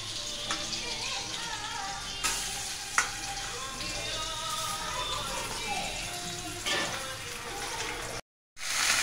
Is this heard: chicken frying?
yes